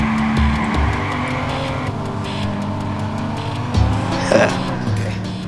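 A car driven in the video game Watch Dogs, engine droning steadily with tire noise throughout, a couple of brief thumps and a short skid-like screech near the end.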